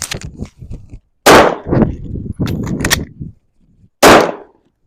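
Gunshots fired at a target on an outdoor shooting range, several sharp, loud reports spaced irregularly with quieter clatter and echo between them.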